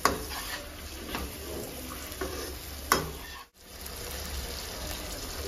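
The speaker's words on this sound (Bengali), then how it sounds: "এই টমেটোটাও ভালো করে মিক্স করে নেব, আর কষাতে থাকবো" Chopped tomato frying in a pan of spiced oil and being stirred, with a steady sizzle, soft scraping and a few clinks of the spoon against the pan, no voices.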